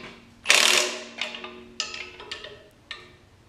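A ratchet wrench snugs down bolts on a homemade engine test stand, giving one loud close burst followed by several shorter clicking strokes spaced about half a second apart.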